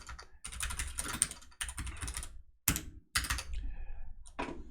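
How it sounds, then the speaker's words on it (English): Computer keyboard typing during a coding session, heard close up as bursts of rapid clacking keystrokes separated by short pauses. "Does the keyboard sound different? Yeah, it is different."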